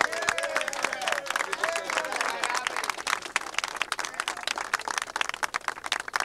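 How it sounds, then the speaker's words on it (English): Steady applause from a crowd, many hands clapping continuously with some cheering and chatter mixed in. "let's give them all a big round of applause"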